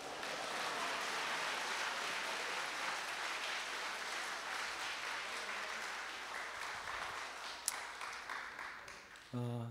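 An audience at a live healing worship concert claps together in a sustained round of applause, dense and steady, tapering slightly before a short voice cuts in at the very end.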